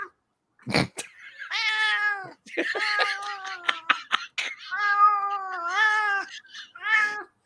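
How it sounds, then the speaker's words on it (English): Loud cats meowing close by, a run of long drawn-out meows and yowls in quick succession with brief gaps and a sharp click near the start. "we have so many cats, so many loud cats today"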